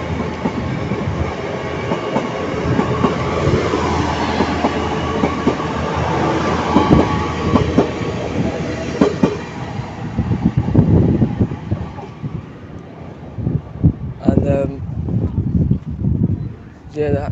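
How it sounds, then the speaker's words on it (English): A loud train passing close by at a station on the line to King's Lynn, with dense rumble and rattling wheels throughout that ease off near the end, while a person talks loudly over it. "there's the train over there going to Lynn by the Sea. It's really loud"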